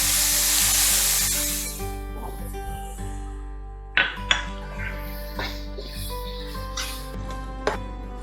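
Milk added to a golden brown sweet mixture in a hot pan for aflatoon. A loud hissing sizzle at the start fades into quieter bubbling with a few sharp utensil clinks against the pan, close and with no speech.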